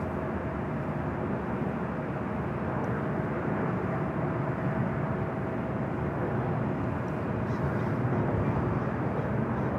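An EVA Air airliner arriving at LAX roars as a steady, broad, distant engine rush that holds constant throughout, with no voices.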